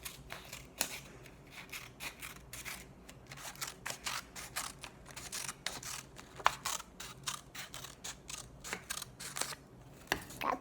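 Scissors cutting a paper strip, a close, quiet series of crisp snips in an uneven rhythm, each cut a sharp short crunch, with no talking.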